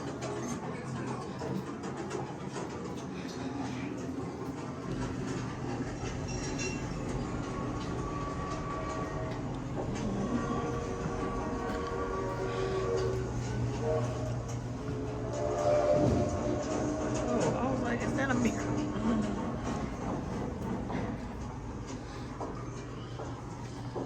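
A passenger train rides along, with a steady rumbling roll of wheels and car noise, occasional squeaks and clanks rising slightly toward the end.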